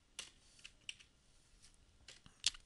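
Several faint, scattered keystroke clicks on a computer keyboard, irregularly spaced with a sharper final tap, in a quiet room.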